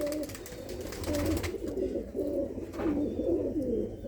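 Pigeons of a high-flying breed coo in low, rolling phrases close by, repeating steadily over faint background noise with no voices.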